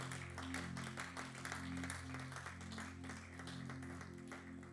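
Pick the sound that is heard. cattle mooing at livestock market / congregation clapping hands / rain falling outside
congregation clapping hands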